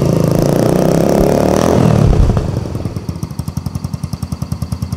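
A custom Yamaha YB125 scrambler, a 125 cc motorcycle with a resonator exhaust, roars loudly close by, then drops to a deep, throaty idle with a regular, pulsing thump.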